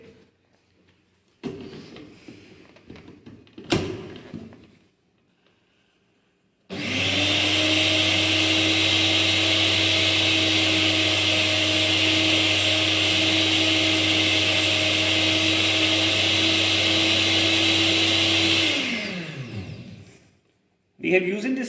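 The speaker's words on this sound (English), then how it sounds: "Okay, now we blend it." Kitchen blender whirring as it mixes cream, milk and condensed milk, a loud steady motor drone lasting about twelve seconds before winding down, preceded by brief handling clatter.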